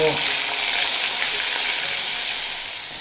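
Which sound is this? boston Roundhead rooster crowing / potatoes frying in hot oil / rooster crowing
potatoes frying in hot oil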